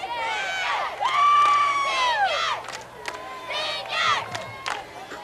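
Spectators and cheerleaders at a high school football game between Paxon and Baldwin yell and whoop in loud swelling bursts, with shrill cheering voices rising and falling over a few seconds.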